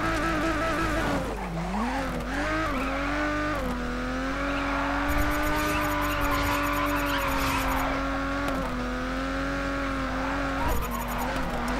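A car drifts in the racing game Grid with a sustained engine drone that bends in pitch and long tire squeals layered on top, loud and continuous throughout.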